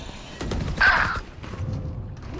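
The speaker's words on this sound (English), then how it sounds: "Plant the spike" Spike being planted in Valorant, a short mechanical clicking and whirring of the device locking in, with a bright electronic tone swelling briefly in the middle, fairly close and clear.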